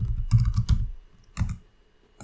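Computer keyboard typing heard up close as quick clusters of sharp key clacks, a burst of several strokes followed by a pause and one more short run, with no talk.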